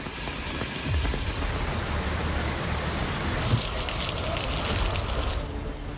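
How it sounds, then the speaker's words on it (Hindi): Steady monsoon rain in Noida falls as a dense, even hiss on surfaces, with a faint low rumble now and then underneath. "मानसून जब पलट कर आया तो पहली ही बारिश में नोएडा को पानी की अच्छी सौगात दे गए।"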